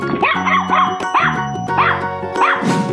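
A dog in a 3D animal slide video game barks several times in quick, loud, close bursts over steady game music.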